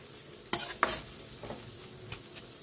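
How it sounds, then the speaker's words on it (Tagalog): Spoon stirring pork picadillo in a pan, with two quick scraping sweeps followed by softer scrapes over a low sizzle, heard close and without speech. "Mekos lang."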